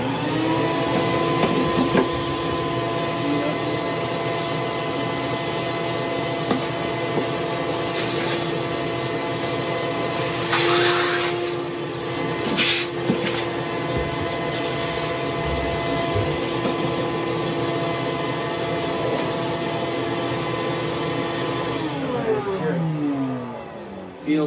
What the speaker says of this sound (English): Get some vacuuming.